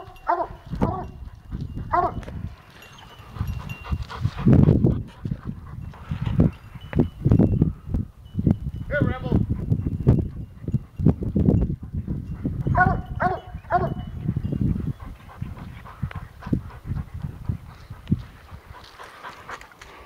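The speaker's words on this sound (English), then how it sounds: "These dogs are really, really, really tired." Tired bear-hunting dogs pant heavily up close in rapid, breathy bursts, mixed with occasional short whines and yelps.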